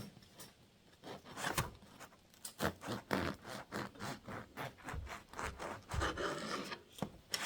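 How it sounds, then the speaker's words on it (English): A knife saws back and forth through a loaf of homemade yeast bread made with a starter from an 1884 recipe and slightly overbaked. It gives a steady run of rough, close rasping strokes at a quick rhythm, with no voices. "I already cut off the first slice. I'll cut off another slice."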